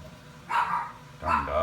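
Dogs bark twice in the background of a room holding a large reef aquarium, two loud, separate barks about half a second apart over a steady hum.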